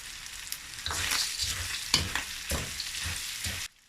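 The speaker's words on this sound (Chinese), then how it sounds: "最后加入备好的干辣椒" Dried chilies and Sichuan peppercorns fry in a hot wok for Sichuan chili chicken, a steady broadband sizzle broken by a few sharp spatula scrapes and stirs, ending abruptly.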